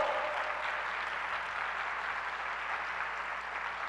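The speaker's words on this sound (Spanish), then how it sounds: "Dale un fuerte aplauso al Señor, hermano amado." Steady applause from a church congregation praising God during a Spanish-language sermon, a dense even wash of clapping sustained throughout without a break.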